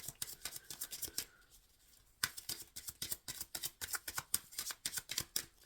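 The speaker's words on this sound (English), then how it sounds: "Shuffling for the final message" Tarot cards are shuffled by hand in quick rhythmic bursts of crisp riffling taps, with a brief pause before the shuffling resumes at a steady fast pace, close and fairly loud with no talking.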